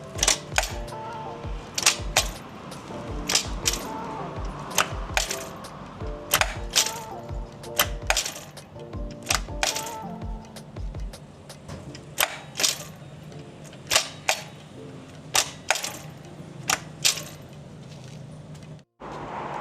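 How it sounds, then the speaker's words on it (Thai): A Honda DAX ST125 Tamiya Limited motorcycle makes abnormal clicking and knocking as its gears engage. Sharp, loud clacks repeat irregularly over a low idling engine drone, some in quick pairs, with brief quieter gaps between. "คือปกติเสียงเกียร์มันก็เข้า ปกตินะครับ แต่มันจะมีเสียง แป๊กๆมันอาจจะดัง ปังๆก็ได้ครับ"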